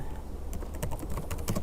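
Quick, irregular clicking of keys on a computer keyboard while code is written in an IDE, close and steady with no voices.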